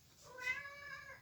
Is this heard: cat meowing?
yes